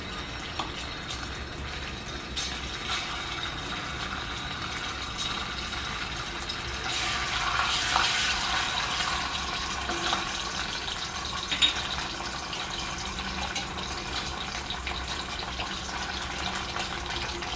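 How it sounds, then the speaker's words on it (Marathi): Ginger garlic paste sizzling in hot oil in a pan, a continuous watery hiss that swells briefly in the middle and then settles, with faint rattles. "तर तेल आपलं गरम झालेलं आहे मस्त असं. तर यामध्ये आपण ही 1 चमचा आलं लसूण पेस्ट घालूया."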